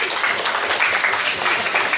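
Brief burst of applause from a crowd for a singer at a band reunion concert press conference, dense clapping lasting about two seconds.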